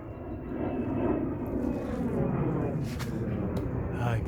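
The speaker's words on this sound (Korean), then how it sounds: "비행기" A large airplane passes overhead above a mango farm in the Philippines, producing a steady, loud roaring drone that holds evenly for several seconds with no gaps.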